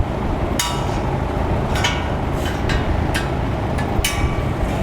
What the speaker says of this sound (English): You take a flathead screwdriver and they should pop right off.